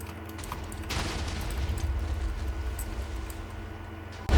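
TNT bombing in Minecraft: a steady, fairly distant stream of overlapping explosions rumbling on as a dense, continuous roar at moderate loudness.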